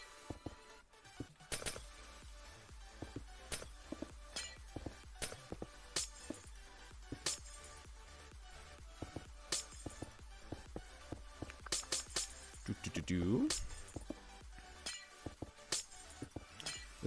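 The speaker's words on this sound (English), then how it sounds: "The sound of glass breaking is so jarring in this game" Blocks of glass shatter in the Minecraft video game: repeated sharp, bright crashes and tinkles arrive in irregular bursts over a quiet background, with a dense cluster of breaks and a short rumbling clatter near the end.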